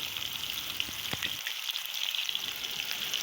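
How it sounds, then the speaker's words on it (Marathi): Ground masala sizzles in oil in a kadhai with a steady, close hiss and crackle that never lets up, plus a few faint stirring knocks. "एका कढईमध्ये थोडंसं तेल घालून त्यामध्ये आपण वाटून घेतलेला मसाला छान तेलामध्ये परतून घ्यायचा आहे"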